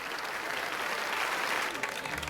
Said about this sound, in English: And Vaughn's a bit sickened by the applause.